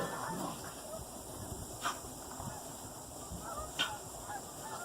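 Geese honk while flying over a snowy yard, faint and distant, with a couple of brief honks standing out above a soft steady background hiss.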